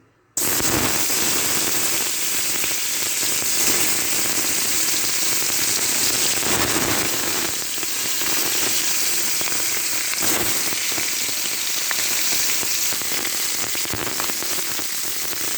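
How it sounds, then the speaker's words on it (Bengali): Nilotica tilapia fish dropped into hot oil in a wok, loud dense crackling and spitting that starts abruptly and continues steadily without letup, no voices. "তেল গরম হয়ে গেছে এবার মাছ দিচ্ছি দেখেন"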